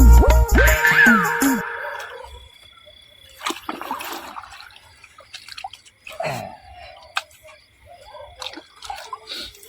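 Water flowing into a farm field drips and splashes in short, irregular bursts with quiet gaps between them, nearby, with a brief higher-pitched sound at the start.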